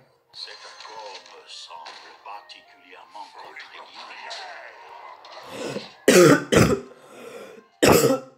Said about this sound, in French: si vous m'entendez tousser, c'est parce que je suis malade